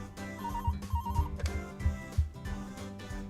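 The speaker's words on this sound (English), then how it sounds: "my work phone rang" A work phone ringing in the Cupid Parasite game, a repeated electronic ringtone trill over a soft music backing with thumping low beats, moderately loud and without talk.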